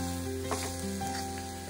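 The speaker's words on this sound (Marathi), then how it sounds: "गूळ आपलं पूर्ण वितळेपर्यंत आपण छान असं परतून घेणार आहोत।" Jaggery sizzles steadily as it is sautéed and stirred until melted for a sweet modak filling, a soft continuous frying hiss with faint stirring scrapes and a low background hum.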